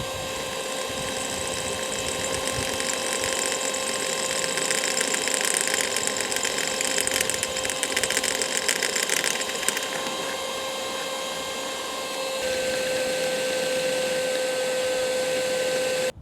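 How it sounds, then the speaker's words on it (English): A drill bores holes in a van roof for rivnuts, a sustained high-pitched whirring whine that holds steady, shifts pitch partway through, and continues close and loud with background hum. "hopefully this should now get drilled up and be able to put the riv nuts in"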